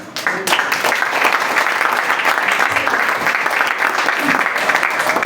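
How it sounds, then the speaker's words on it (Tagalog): A church congregation gives loud applause to welcome returning members, a dense burst of many hands that starts abruptly and holds strong and steady. "I-welcome na natin sila ng malakas na palakpak"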